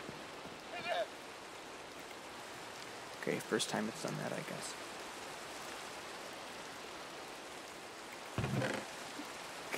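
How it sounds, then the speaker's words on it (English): Rain falls steadily in the video game Minecraft, a soft continuous hiss running throughout the scene, with someone speaking briefly over it. "It's raining."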